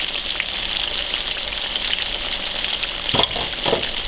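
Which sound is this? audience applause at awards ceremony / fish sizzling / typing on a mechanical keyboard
fish sizzling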